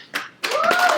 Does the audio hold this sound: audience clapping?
yes